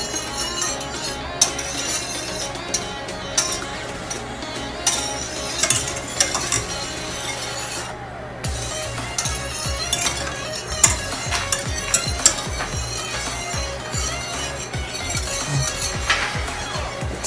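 Gravy being stirred in a pan, a spoon scraping and clinking steadily against the metal in a continuous close rhythm, with a faint sizzle underneath.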